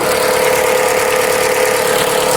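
A Chrysler 200 with an overheating and coolant-leak problem idles steadily in a repair shop, a loud, even engine drone with a constant hum and no speech.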